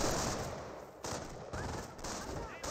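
Bursts of MG42 machine gun fire in the strategy game Company of Heroes, several short rattling volleys repeating every half second or so, fairly distant and faint amid battle noise.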